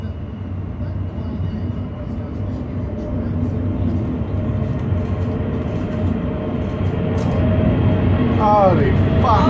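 Airplane flying low over buildings in Australia, a deep rumbling engine roar that swells louder over several seconds, with people talking faintly underneath.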